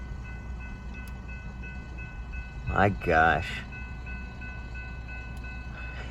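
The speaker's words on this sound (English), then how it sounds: "Here's a train" A freight train passes in the Mojave Desert: low continuous rumble and rolling rail noise with a brief two-part horn blast in the middle, heard from nearby with a short exclamation from a person.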